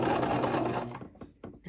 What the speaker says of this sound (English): now you are going to continue forward stitching all the way around until you get back to that